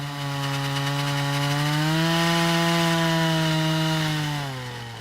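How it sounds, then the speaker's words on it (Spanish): A water drill whines loudly and steadily while boring into rock for a sample, its pitch rising slightly as it bites in and then dropping as it winds down near the end. "Para obtener una muestra, perforan la piedra con un taladro de agua"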